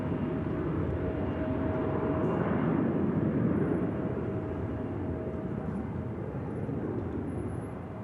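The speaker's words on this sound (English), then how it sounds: "Noisy spool up of the 737 heading off to a place called Santorini" A Jet2 Boeing 737 spools its engines up for takeoff at Manchester Airport, heard from a distance as a steady, broad roar with a faint sustained whine, holding loud throughout and with no voices.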